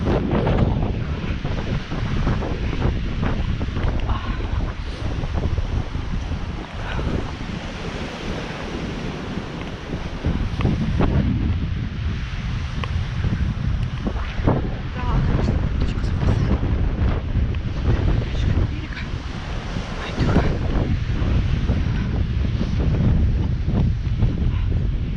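Strong wind buffets the shore of the gulf near Aleksandrovskaya, Tarkhovka and Razliv, roaring into the microphone in loud, gusty waves over a constant surf wash for the whole stretch.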